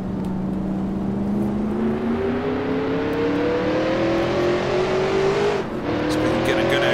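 A 1966 NASCAR race car engine after a downshift to first gear gives a loud, close, strained drone that climbs steadily in pitch. It dips briefly near the end, then pulls again.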